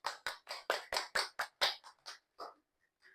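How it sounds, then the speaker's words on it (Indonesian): Students in a classroom clap their hands in a short burst of about eleven distinct, quick claps that start strong, then thin out and fade near the end, fairly close and alone. "tepuk tangan."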